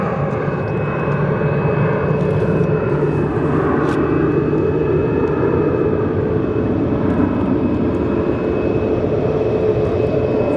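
A Boeing 737 Max 8 airliner at Phoenix Sky Harbor Airport, its engines producing a loud, steady roar with a constant high whine throughout, with no talking.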